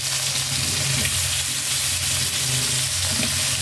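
Kaldereta mixture hitting a hot pan of sautéed garlic, a steady close sizzle and crackle of frying that holds evenly throughout with no talk.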